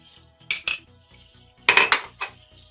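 A few sharp clinks of a utensil against a metal pot while stirring flour and starch, in short bursts with quiet gaps, close and fairly loud.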